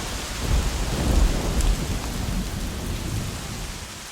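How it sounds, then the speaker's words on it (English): Heavy rain pours down at night onto a rocky outdoor shelter, a dense steady roar with low rumbling swells, loud and continuous with no voices. "It's just started pouring down with rain."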